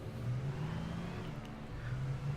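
Car engine in the video game Alan Wake, a faint, steady mid-pitched hum with slight revving swells as the car drives, heard alone without talk.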